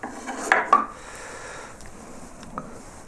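Carving gouge scooping wood from a carved heraldic lion head, two quick close scraping cuts near the start, then a faint tap later, otherwise quiet.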